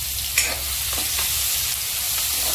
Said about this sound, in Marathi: चॉप केलेला ऑनियन टाकायचं आहे आता आपल्याला तेलामध्ये आणि ह्याला पूर्ण ब्राऊन होईपर्यंत हे करायचं